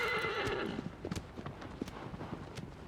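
A horse in the Shadow of the Colossus remake gives a loud whinny, then its hooves clop in an uneven series of close, distinct thuds.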